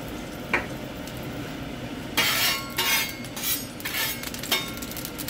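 Oil hisses onto a hot griddle for Sri Lankan egg kottu roti, a quiet background that swells into bright sizzling bursts halfway through, with a metallic clink or two.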